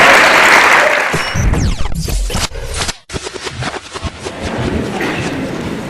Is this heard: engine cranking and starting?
no